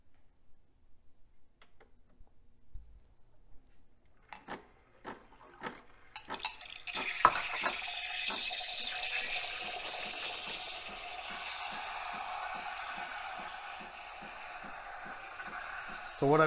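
A Nespresso machine on its milk setting gives a few sharp clicks and ticks, then settles into a steady hissing, whirring drone as it heats and froths milk, close by with a voice talking near the start.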